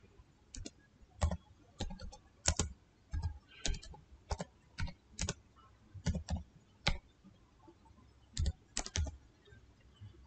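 A computer keyboard clacks as a search is typed into Windows, with quick irregular bursts of close, quiet keystrokes and brief pauses between them.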